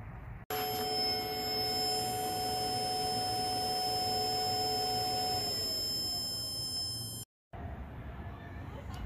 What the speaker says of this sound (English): it was making a beeping sound